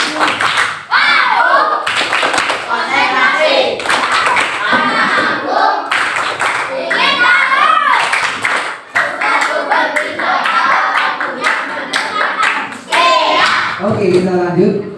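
A group of schoolchildren in a classroom performs a rhythmic concentration clapping routine, with steady bursts of hand claps and taps throughout, mixed with a teacher's and children's voices.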